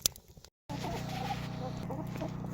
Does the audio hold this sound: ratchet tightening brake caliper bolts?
no